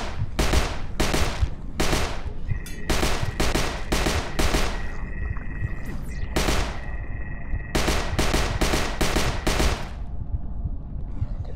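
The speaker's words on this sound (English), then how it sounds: "Do selective shooting here." Rapid bursts of gunfire from the VR shooter HordeZ, clustered volleys with short gaps between them, loud and close, and a steady tone running under the middle stretch, with no talking.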